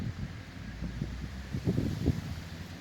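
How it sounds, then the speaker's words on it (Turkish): Wind blows steadily into the microphone at a caravan campsite in Gaziantep, producing low buffeting gusts and rumbling, moderately loud, with no voices. "Bayağı bir rüzgar var. Rüzgarlı bir hava var."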